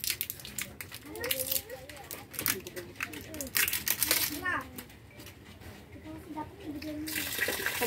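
Water runs and splashes into a cooking pot in a rural home while making chocolate porridge for kids, a steady wash of pouring sound under frequent talking and children's voices.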